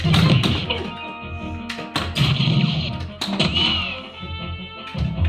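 Virtual pinball table in the Visual Pinball X video game: a run of hollow thunks, taps and knocks from the ball and flippers, with a steady mechanical clatter and electronic table sounds underneath.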